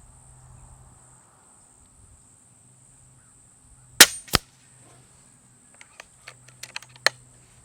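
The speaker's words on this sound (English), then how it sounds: "Someone shooting rockets off in the next pasture." Rockets shot off in a nearby pasture give two sharp, loud cracks in quick succession, followed a moment later by several smaller scattered pops, over a faint steady chirp of insects.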